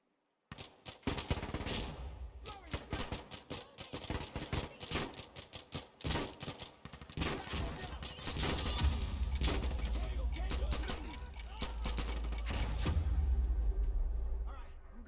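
Automatic gunfire in the video game Insurgency Sandstorm, heavy-recoil weapon firing in dense rapid bursts, loud and close, with a deep rumble building later, alongside talking.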